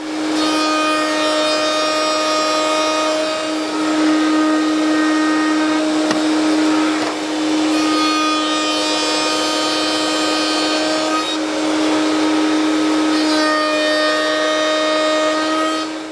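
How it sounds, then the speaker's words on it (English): Dovetail router bit spinning and cutting a row of sockets across a wooden drawer board, a loud steady high-pitched whine with strong tonal harmonics, holding level for the whole stretch with slight dips between passes. "the tool that we use to cut that, a dovetail router bit that's spinning"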